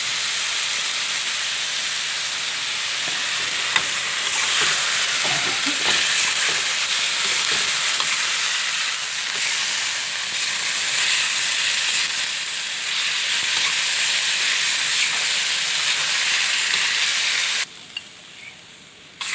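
Minced pork stir-fried with holy basil leaves and soy sauces in a hot pan gives a loud, steady sizzle and hiss with scraping stirs throughout, dropping briefly near the end, with no talking.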